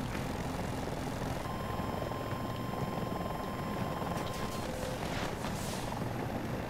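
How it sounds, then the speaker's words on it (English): An attack helicopter in the video game Battlefield 2042 drones steadily with a continuous rotor and engine rumble over battlefield noise, moderately distant and under a constant wash of sound. "I hope my gunners can see that attack chopper."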